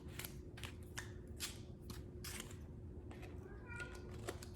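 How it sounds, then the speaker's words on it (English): Quiet, repeated snipping and rustling as faux pumpkin pie slice material is trimmed by hand, soft short cuts spaced through a low background hum. "and then I'm going to trim this off"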